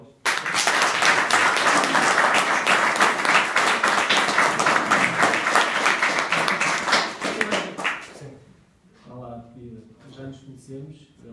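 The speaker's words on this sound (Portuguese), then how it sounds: "Uma salva de palmas." Sustained applause from an audience at a book launch session, dense and loud for about eight seconds before fading out as a voice starts speaking.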